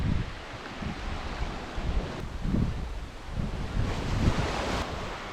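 Ocean waves wash onto a tropical beach, a continuous roar of surf with rolling surges, heavy wind buffeting the microphone throughout.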